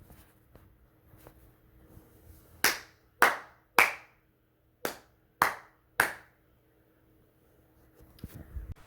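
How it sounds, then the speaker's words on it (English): Six sharp, loud hand claps in a quiet room, spaced roughly half a second to a second apart with a short gap mid-sequence, recorded to sync audio for Yamaha AS-1100 speaker samples. "I'm going to clap."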